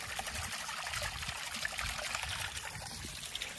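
Water from a well-fed source trickles and splashes steadily close by, a continuous bright babbling with no voices.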